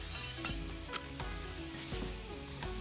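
Pork for Thai mu kratha sizzles steadily on a hot grill pan at a campsite, a close, continuous crackle and hiss with faint clinks of utensils and no talking.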